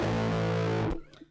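An electric guitar played through a cheap Amazon distortion pedal, with a grungy, thundery sustained chord ringing loud and close before cutting off abruptly into a short decay.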